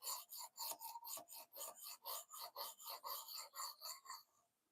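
A kitchen knife is sharpened by hand in steady back-and-forth rasping strokes, about fifteen even scrapes at a brisk, regular rhythm, close and clear with no talking, ending abruptly.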